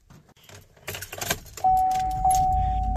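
Keys jingle and clink for about a second, then a truck's steady interior chime tone and engine hum take over, close by.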